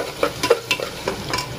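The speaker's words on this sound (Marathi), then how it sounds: "टमाटा चांगला भाजून झालेला आहे" Tomatoes fry in a pan, giving a soft, close sizzle with a few light stirring scrapes and clinks over a brief moment, with no talking.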